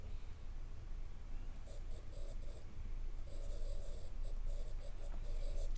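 A stylus pen writes on a Samsung tablet screen, giving faint, close, soft scratchy strokes in short bursts over a low steady background hiss.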